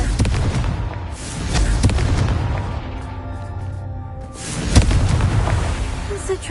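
Confringo fire spell explosions from the video game Hogwarts Legacy: loud, booming blasts, several of them, with a big burst near the end and rumbling crackle between the hits.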